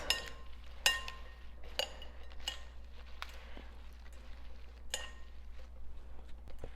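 Salad of lettuce, potatoes and eggs being tossed in a bowl, with soft repeated clinks and taps of utensils against the bowl over a quiet low hum, close and fairly gentle.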